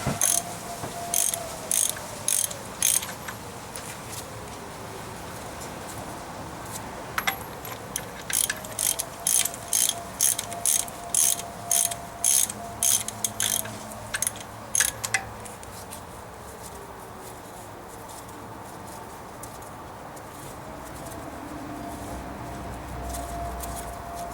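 A ratchet turning an injector nut on a Cummins 6BT 12-valve engine in a 1995 Dodge Ram, giving quick bursts of sharp clicks in repeated strokes, close and moderately loud, then going quiet for the last several seconds.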